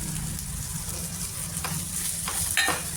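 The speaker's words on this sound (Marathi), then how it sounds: "नंतर आपण त्यामध्ये हे घेतलेले जे मसाले आहेत हे टाकून घेऊ" Spices fry in hot oil for an eggplant and potato curry, a steady close sizzle with a few short stirring scrapes near the end.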